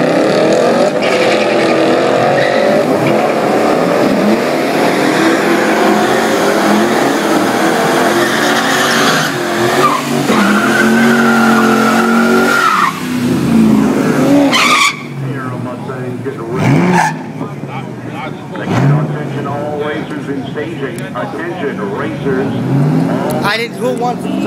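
A 2011 Ford Mustang 5.0 V8 on a race track, its loud engine roaring and revving with rising and falling pitch, tires squealing briefly, close by and heavy throughout, with people talking over it at times.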